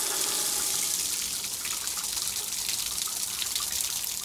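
Water pouring from a hand-sculpted waterfall feature in a farm bathhouse, a steady close splashing gush with bright hiss and no voices.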